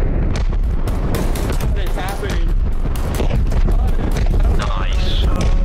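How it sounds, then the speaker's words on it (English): Mortar shells burst one after another in Arma Reforger, loud booms and blasts crowding a dense battlefield soundscape with constant rumble, while players talk over the barrage. "Mortars. That just hit the heli."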